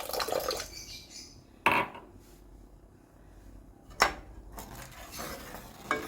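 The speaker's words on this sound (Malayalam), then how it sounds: "ഇത് കുറച്ച് നേരം കൂടി ഒന്ന് ഇളക്കിയെടുക്കാം നമുക്ക്" Mango syrup with sugar stirred in a pot on the stove, heard as a few separate scraping clinks of a spoon against the pot at fairly wide intervals over a quiet, faintly bubbling background.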